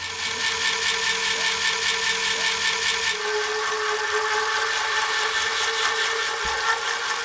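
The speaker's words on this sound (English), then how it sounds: "using this commutator cleaning stick, we insert this down and push it up against the commutator whilst this motor is spinning" An Agni electric motor spins steadily with a high, whining tone while a cleaning stick is held against its commutator, adding a continuous scraping buzz; the pitch shifts slightly midway, and the sound stays loud and close throughout with no talk.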